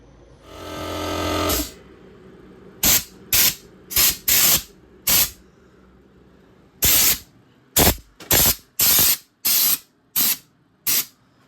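Spray gun applying paint to the underside of a BMW E46 M3: one long initial hiss, then about ten short, even bursts of loud spraying, each about half a second, with quiet gaps between.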